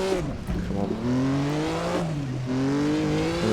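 A historic 1954 Formula One race car engine in Assetto Corsa at the Nürburgring drones loud and close, its pitch dipping and climbing through gear changes as it revs, with faint voices underneath.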